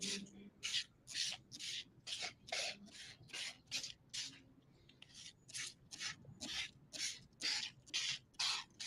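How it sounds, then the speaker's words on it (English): Vinegar is sprayed from a hand trigger sprayer onto garden cabbage plants, giving a steady run of about twenty sharp hissing bursts, close and clear with no talk. "I'm gonna spray them."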